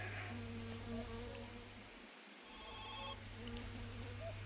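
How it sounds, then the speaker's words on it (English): A telephone rings inside the video game My Summer Car, a single rapid electronic trill of about a second, fairly faint over a steady low hum and light rain-like background. "Phone call, man."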